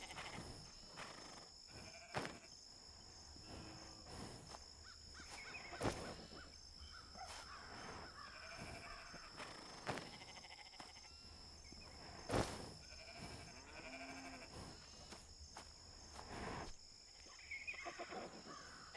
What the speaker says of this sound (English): What are you doing, goat?